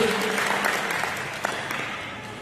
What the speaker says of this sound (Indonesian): saya pengen dengar tepuk tangan teman-teman semua di sini